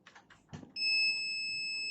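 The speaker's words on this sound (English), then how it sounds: "Pin number 4 is ground, so should beep to ground" A multimeter set to diode mode beeps when its probe touches the ground pin of a laptop BIOS chip. After a few faint clicks and taps, one steady electronic tone starts and holds to the end.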